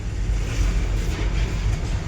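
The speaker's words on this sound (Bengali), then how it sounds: "তো দেখেন এদিকে ট্রেনও কিন্তু চলছে, এটা শায়দ কয়লা লোডিং" A coal loading train runs along the tracks in Kolkata, a continuous low rumble with faint rhythmic rattling, steady and fairly loud without talk.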